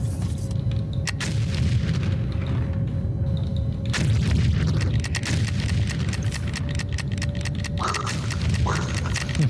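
Explosions in the mining and factory-building game Foundry, a dense run of deep booms and blasts rumbling continuously, with broadband bursts layered over a steady low roar.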